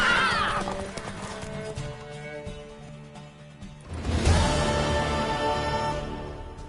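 In The Witcher 3 video game, a mare whinnies briefly, then hooves clatter in a galloping rhythm that swells louder midway, with a low rumble beneath.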